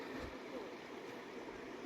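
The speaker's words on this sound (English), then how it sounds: "Very shallow river, but it's fast moving." Shallow, fast-moving Hoh River in the rainforest rushing steadily over its bed, a continuous broadband wash heard up close with no pauses.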